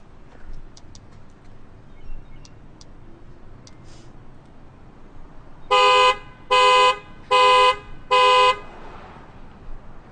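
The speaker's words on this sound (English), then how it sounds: "Set off the alarm." A car alarm or horn honks four times in a steady, loud rhythm after a stretch of quiet background, with no talk over it.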